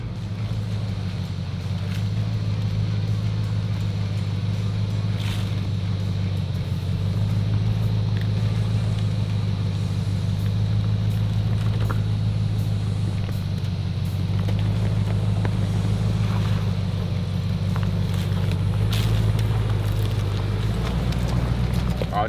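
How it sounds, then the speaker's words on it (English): A 4WD vehicle labours up a steep forest track in D'Aguilar National Park with slight rear wheel spin, its engine a steady low drone and tyres crunching throughout at close range, with no one talking. "It's just that little bit of rear wheel spin where the diff lock would usually take over that"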